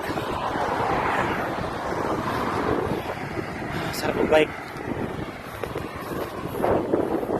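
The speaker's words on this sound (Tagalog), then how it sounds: "Sobrang mahangin" Strong wind on the seaside corniche in Jeddah, Saudi Arabia buffets the microphone in a steady low roar, with a person speaking briefly over it and faint traffic-like noise in the background.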